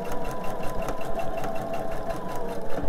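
A sewing machine stitches seams on a sewing project, its motor running with a steady, fast needle rhythm close up and fairly loud throughout, no voices over it.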